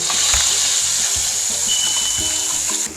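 Loud, steady sizzling and crackling of chutney paste frying in hot oil with asafoetida, close up, with a few light knocks underneath.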